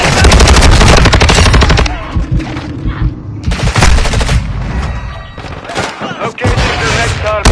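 Call of Duty Modern Warfare 2 gunfire on PS5: loud, dense automatic rifle bursts rattle in rapid strings, broken by short gaps and heavy thumps, with game voices faintly underneath.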